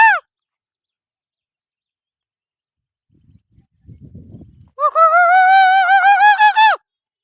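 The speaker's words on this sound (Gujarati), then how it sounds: "મોરલાનો અવાજ સાંભળવા હાટો." A peacock gives a loud, close, sustained wailing call near the end, with a brief cry at the start and soft rustling between, in an open hillside setting at Chhano Dungar.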